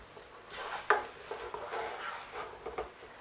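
Water fufu is stirred in a pot with a small wooden spoon, giving soft, close scraping and thick mushy churning strokes with a few sharper knocks against the pot, fairly quiet and without talk.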